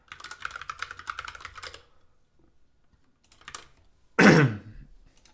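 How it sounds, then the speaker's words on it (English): A person with a cold clears their throat and coughs in one loud, close burst near the end, after a stretch of soft computer-keyboard typing and a short quiet gap. "Excuse the cough and the sniffles."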